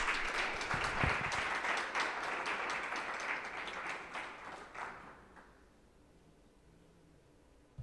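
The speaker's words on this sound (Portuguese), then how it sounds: "Uma salva de palmas para ela." Podcast studio applause for a guest, a burst of lively clapping that stays strong for several seconds, then thins and fades out to near silence.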